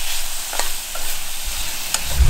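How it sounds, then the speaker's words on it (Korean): Cabbage and garlic stir-fried in a pan for a tantan ramen soup give a short burst of loud, close sizzling with a few sharp scraping stirs, no voices. "양배추 숨이 살짝 죽을 정도만 볶아주도록 하겠습니다"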